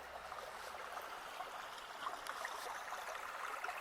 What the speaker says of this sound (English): I could listen to the sound of bubbling water all day.